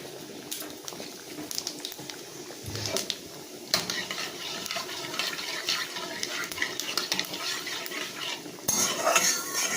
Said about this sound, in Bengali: এবার আমি জিরে আর তেজপাতা ফোড়ন দিয়ে দেবো